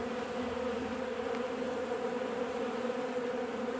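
Honeybees buzz around a row of beehives in a steady, dense drone that holds close and constant throughout, with no voices.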